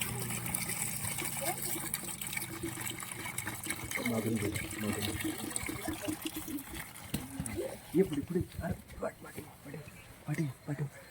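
Water trickles and splashes as it is poured into a container over banana peels for organic fertilizer, with a voice talking over the steady flow.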